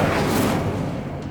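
Incendio fire spell cast in the Hogwarts Legacy video game, a dense roaring whoosh of flame that bursts loud at once and holds steady, slowly thinning over about a second and a half.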